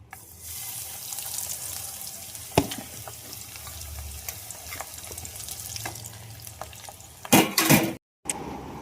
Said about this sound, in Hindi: घी भी गर्म हो गया अच्छे से और मैं इसको फ्राई कर